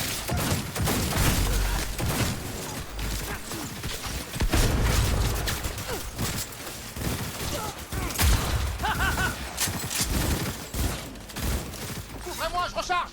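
Gunfire in the video game Cyberpunk 2077 comes as dense, rapid bursts of shots and thuds mixed with game sounds, with voices speaking intermittently over the firing.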